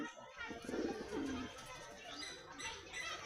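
A pair of pigeons, a male and a female kept at a house, give a short low coo near the start, fairly close, with faint background activity afterward.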